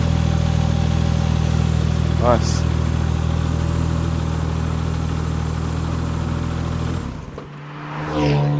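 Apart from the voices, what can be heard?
Porsche 996 Turbo engine running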